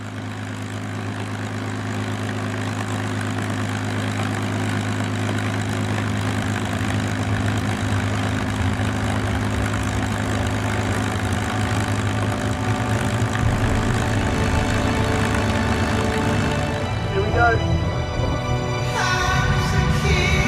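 The rebuilt piston engine of the VH-BOB aircraft runs up on the ground before its first flight in 15 years, a loud, steady propeller drone with a deep throb that shifts and grows rougher toward the end.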